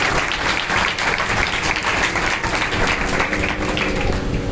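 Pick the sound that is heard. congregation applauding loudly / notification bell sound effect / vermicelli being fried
congregation applauding loudly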